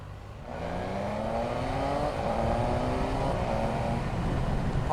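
A Triumph Speed Triple RS motorcycle engine being ridden, its tone rising steadily as it accelerates through the gears, loud and close with no talking.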